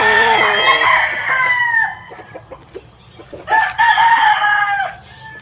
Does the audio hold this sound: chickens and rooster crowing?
yes